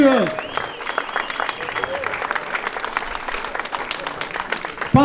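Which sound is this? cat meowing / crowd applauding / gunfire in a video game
crowd applauding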